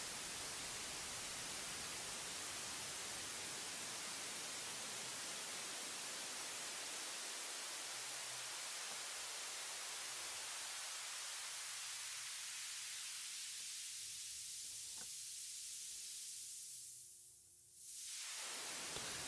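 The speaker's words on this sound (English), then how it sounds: "Let's hear the impact this has on some white noise. I'll start this low and I'll slowly increase it." White noise run through a high-pass filter whose cutoff sweeps steadily upward, the low end thinning out progressively until only a bright hiss remains, alone and constant in level.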